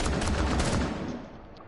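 A close, loud shotgun blast in the tactical shooter Rainbow Six Siege, the boom ringing out and decaying over about a second and a half.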